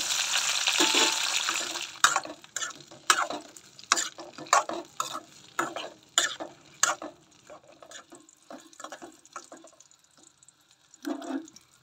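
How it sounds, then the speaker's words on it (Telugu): Green chillies, both thin and thick, fry in a little hot oil in a pan over a stove, with a series of sharp scraping stirs and soft sizzling, then a quieter stretch and a brief final burst of stirring. "పొయ్యి మీద ఒక బాండి పెట్టుకొని 2 టీ స్పూన్ల నూనె పోసుకొని నూనె వేడెక్కాక సన్న మిరపకాయలు, లావు మిరపకాయలు వేసుకొని దొరగా వేయించుకోవాలి"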